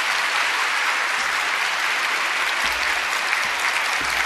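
Sustained applause from a church congregation at a dawn prayer service, welcoming the pastor: dense, steady clapping from many hands filling the room, continuous and fairly loud with no voices.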